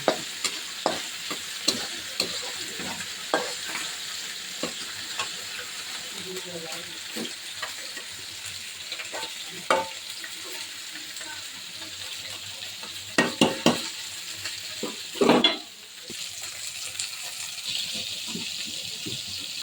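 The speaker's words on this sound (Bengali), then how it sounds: "লাল শাকের জন্য পেঁয়াজ আর রসুন ভেজে" Onion and garlic frying for red spinach in a miniature cooking setup, a steady soft sizzle with scattered clicks and taps of stirring throughout, one louder scrape near the end.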